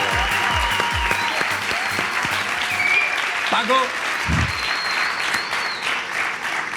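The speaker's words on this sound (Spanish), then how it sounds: "¡Un aplauso para él!" A studio audience applauds a Spanish dance-music artist with steady, dense clapping that lasts throughout, while people talk loudly over it.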